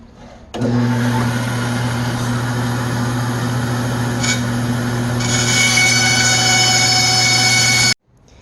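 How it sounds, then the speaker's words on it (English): A bandsaw cutting a wooden board: the motor kicks on with a loud, steady humming whine, the rasp of the blade biting into the wood thickens partway through, then everything cuts off abruptly. "So I'm going to go ahead and cut it with the bandsaw."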